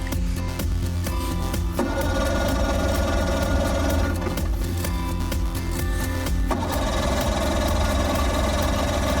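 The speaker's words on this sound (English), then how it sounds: "After a little Coaxing, the motor sputters to life" A cold outboard motor on an Alaska river trip runs with a rough, knocking chug, sputtering and uneven at first as it struggles to settle, loud and close throughout.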